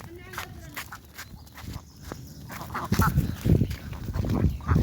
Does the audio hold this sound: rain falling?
no